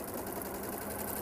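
A sewing machine stitching a quilt seam, a quiet, fast, even mechanical whir with a faint rhythmic chatter, steady and close for the whole brief moment.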